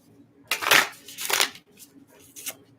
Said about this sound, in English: I'm gonna shuffle a little bit first.